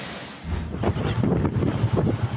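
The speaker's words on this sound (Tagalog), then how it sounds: "Malalakas na bugso ng hangin din ang naranasan sa Labo, Camarines Norte, bunsod ng Super Typhoon Uwan." Strong super typhoon wind gusts buffet the microphone on the Bicol coast in Labo, Camarines Norte, a loud, fluctuating roar with repeated surges.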